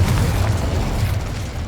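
A heavy, booming magical blast from the Confringo fire spell in Hogwarts Legacy, loud and close, rumbling at the start and slowly fading away.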